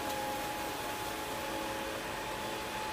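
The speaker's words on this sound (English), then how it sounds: "just with the vacuum motor on the cleaner head" A vacuum cleaner's motor runs in the cleaner head, giving a steady, even whir with a faint tonal whine, quiet and constant with no voices.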